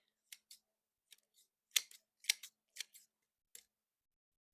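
Sharp scissor snips cutting trident maple roots during bonsai repotting, about a dozen crisp clicks in irregular pairs and singles against near silence.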